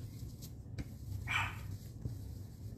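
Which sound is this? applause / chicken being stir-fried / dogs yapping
dogs yapping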